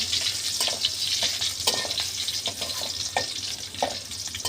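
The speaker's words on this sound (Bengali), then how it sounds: "তেল দিয়ে রসুন কুচি দিয়ে দিয়েছি" Chopped garlic frying in hot oil for a tomato tempering, a steady close sizzle with scattered sharp crackles and occasional stirring scrapes, no voices.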